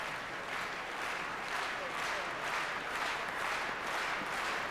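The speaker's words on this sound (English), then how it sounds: "comes alive here at the arena in Medicine Hat" A crowd applauding at the Medicine Hat arena during a 2004 Continental Cup of Curling women's team match, a dense sustained roar of clapping and cheering that swells gently, with a commentator's voice over it.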